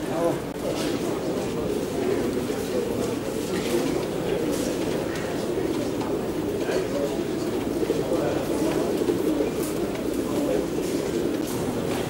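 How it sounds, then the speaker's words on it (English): Racing and fancy pigeons cooing together at a British Show Racer Federation show of about 300 birds, a steady, dense chorus of soft coos filling the hall with a murmur of indistinct voices throughout. "there's a big number of fancy pigeons from the local Nottingham club"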